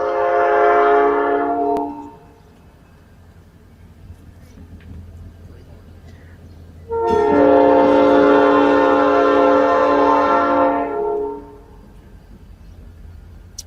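A train sounds its horn in two long blasts, a short one first and then a longer one after a pause, with a low rail rumble running underneath.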